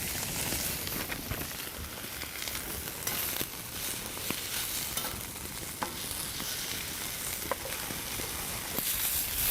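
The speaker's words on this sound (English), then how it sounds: "So I'm going to caramelize these onions." Onions caramelizing with a sprinkle of maple sugar in a pan over a winter campfire, a dense, continuous sizzle and crackle with scattered pops and occasional stirring scrapes, loud and close.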